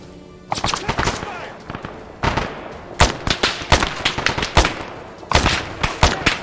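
Gunfire in Arma 3 comes in repeated bursts of sharp, loud shots, some rapid and automatic and some single, with short gaps between volleys and a voice speaking in between.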